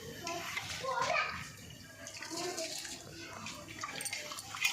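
Rice goes into boiling water for mutton biryani, a soft watery sloshing and bubbling that runs throughout beneath a person speaking.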